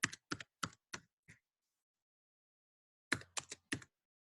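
Password being typed on a computer keyboard: five crisp, distinct keystrokes in quick succession, a pause of nearly two seconds, then four more, close and clear against silence.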